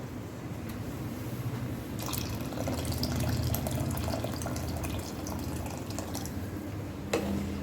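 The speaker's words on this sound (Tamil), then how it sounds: "இன்னும் கொஞ்சம் கூட தண்ணி ஊற்றிக்கலாம்" Water pours steadily into a cooking pot nearby, a continuous splashing flow ending with a small clink.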